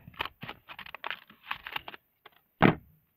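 Zigzag scissors snip through a McDonald's paper sticker sheet in a run of short crisp cuts, close and fairly quiet, ending in one louder crunchy snip before silence.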